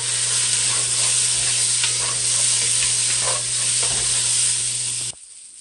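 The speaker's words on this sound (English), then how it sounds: "And continue sauteing." Oxtail stew ingredients sauté in a hot pan with a steady, close sizzle and frying crackle, and a spoon stirs through them now and then; the sizzling cuts off abruptly near the end, leaving near silence.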